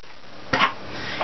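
A single short, sharp pump-and-click as a modded Air Zone Turbofire dart blaster with its air restrictors removed is primed with force, close and fairly loud against a quiet background.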